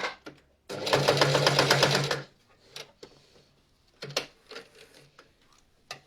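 A sewing machine top stitches a seam on a children's coat in one fast, loud burst of rapid needle clatter, followed by quiet clicks and handling noises.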